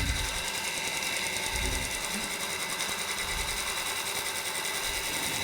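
A bench grinder grinds a carbide turning tool, giving a loud, steady, close whir with a constant high grinding hiss that runs without a break.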